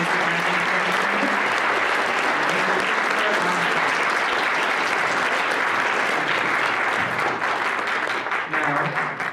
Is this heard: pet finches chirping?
no